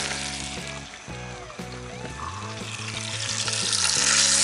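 Wild turkey breast meat sizzles in a hot Dutch oven, a close hiss that swells louder toward the end, with a low hum and steady tones in the background.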